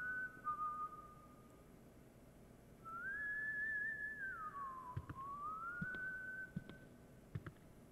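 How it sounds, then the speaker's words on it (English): A janitor whistles a sliding, wavering tune inside the school of the horror video game White Day, rising and falling for several seconds over a quiet background with a few soft clicks. "only walk while he's whistling or something."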